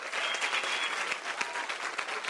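A church congregation at an evangelical service in Porto Alegre applauds, with dense and steady clapping that fills the room and sounds close.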